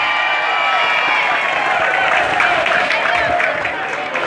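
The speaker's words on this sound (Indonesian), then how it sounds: "tepuk tangan" Schoolchildren applaud at a traffic safety talk, a dense, continuous crowd clapping that stays loud and steady, with some voices mixed in.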